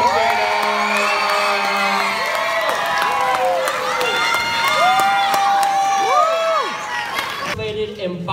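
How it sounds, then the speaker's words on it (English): A school crowd at a fourth-grade graduation bursts into loud cheering, with children shouting and whooping in high, rising cries that swell and fall across several seconds before fading near the end. "Let's give it up for the new fourth graders."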